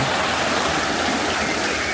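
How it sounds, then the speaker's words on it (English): River water churns steadily at Pitlochry, a dense, continuous rushing wash with no breaks or voices. "You can see how busy the water stays, churning."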